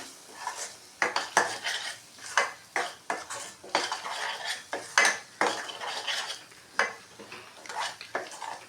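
Red chili powder and turmeric sauté in oil for shahi paneer while a metal spoon clatters and scrapes rhythmically against the pan, the close clinks repeating over a faint sizzle with no voice.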